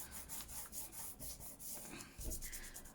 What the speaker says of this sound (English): if you get this glue while it is wet and rub it really fast, it does manage to come up.